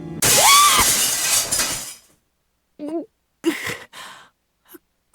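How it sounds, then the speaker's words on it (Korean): Window glass shatters in the game Limbus Company, a loud sudden crash with ringing shards spilling for about two seconds, followed by a few short voiced gasps and sighs. "유리창이 깨졌다. 어떠한 전조 증상도 없이."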